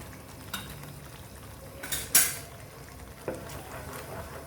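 Spices and spinach are stirred in a pan over a soft background sizzle, with a few sharp clinks of a utensil scraping and tapping the pan, and no talking.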